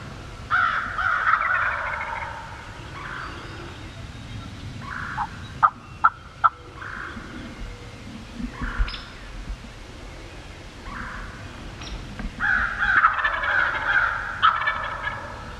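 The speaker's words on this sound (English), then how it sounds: "Just listen to those double gobbles." Wild turkey gobbles ring out in the distance during a turkey hunt in Illinois, a quick double gobble at the start and again near the end, with a few sharp snaps between in quiet outdoors.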